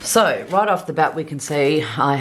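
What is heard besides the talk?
No everyday noises stand out.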